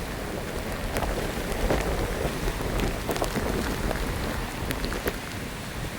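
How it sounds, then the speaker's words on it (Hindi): Heavy rain pours down steadily in a dense, loud hiss, with occasional sharper drops and rumbles mixed in. "ये देखें वो बारिश आई है"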